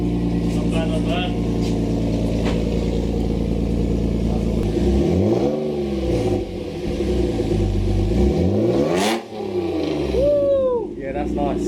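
A Nissan Skyline R34 with a newly installed exhaust revs up close, its engine climbing and dropping in several loud pulls, while people talk over it.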